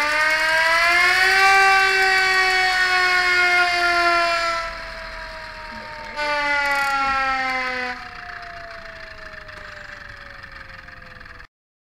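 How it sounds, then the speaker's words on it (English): A hand-cranked wind-up siren, used for theatre Foley, winds up into a loud, sustained wail, dips, surges again briefly, then slowly winds down and cuts off. "wind it up, it's going to start to give us that siren sound"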